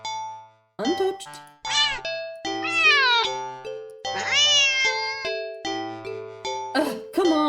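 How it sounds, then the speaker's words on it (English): A cat meows again and again, close by, with a string of sharp, drawn-out cries and short pauses between them over a soft tonal background. "the cat meows sharply at you"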